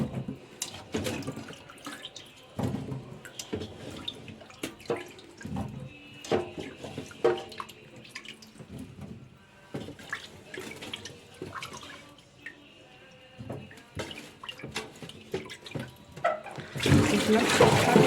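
Washed taro being tipped into a colander in a kitchen, with intermittent splashes, drips and trickling water, plus clattering handling noises, fairly quiet and uneven, ending in a louder rush of running water.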